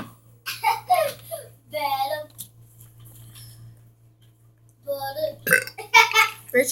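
A young person lets out a couple of loud, drawn-out burps during a burping challenge, separated by a quiet pause, with children talking and giggling close by.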